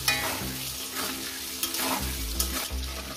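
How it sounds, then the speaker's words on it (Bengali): Potatoes fry in hot oil in a pan for a young jackfruit curry, giving a steady close sizzle broken by several dull stirring knocks and scrapes. "আলুগুলোকে ভেজে আমি লাল লাল করে তুলে নেব"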